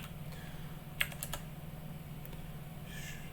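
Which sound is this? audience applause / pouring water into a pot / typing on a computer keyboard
typing on a computer keyboard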